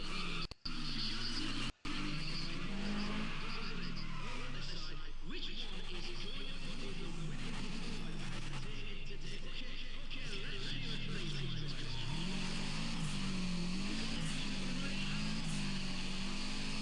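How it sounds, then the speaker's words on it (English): Rally car driven through bends with left-foot braking, the engine note rising and falling in wavering sweeps as the throttle is modulated, heard from inside under steady commentary talk. "Now some rally driving, left foot braking through there."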